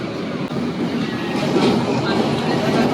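Inside a carriage of the KA Pasundan New Generation economy train, with rubber connections and manual sliding doors, a loud, close, continuous rumble and rattle of the running train with faint clickety-clack, no clear voices.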